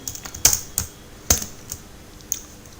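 Several crisp keystrokes on a computer keyboard while code is being entered, isolated taps spaced irregularly with a couple of louder strikes, close and alone with no talking.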